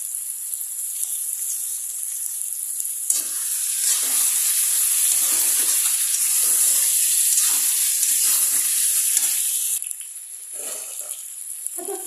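Onions frying in a pan with spices, a loud, dense sizzle and hiss that swells in the middle then drops back, with faint stirring scrapes underneath.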